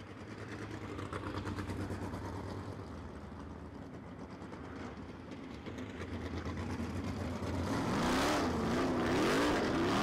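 USAC race cars idle around the Terre Haute Action Track dirt oval in a steady low engine rumble that swells near the end as the cars pass close by.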